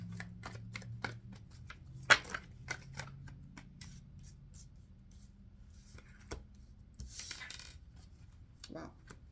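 Tarot cards are shuffled for a reading, a series of close, soft riffling flicks and slaps spaced irregularly over a quiet room hum, with a few brief clicks and rustles.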